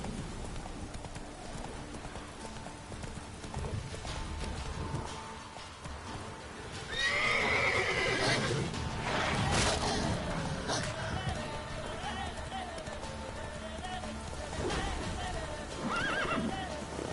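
Roach the horse in a video game, rhythmic galloping hoofbeats with a loud neigh partway through, backed by game ambience and brief voice.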